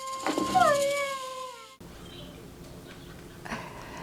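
A tail-wagging dog lets out a short rising howl with whimpering tones, then it cuts off to a low background murmur with a faint yip near the end.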